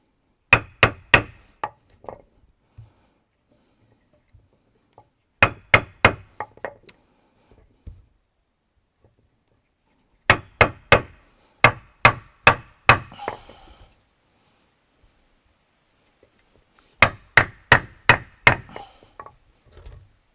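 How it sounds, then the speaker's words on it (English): Bursts of sharp metallic strikes on wood, four quick groups of rapid hammer blows driving a machete blade into sourwood, separated by pauses, close and loud. "And then I'm going to dig into it with my hammer and the machete."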